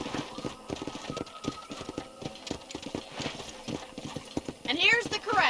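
Rhythmic hoofbeats of a horse trotting in the video game Red Dead Redemption, steady clip-clop throughout, with a horse whinny near the end.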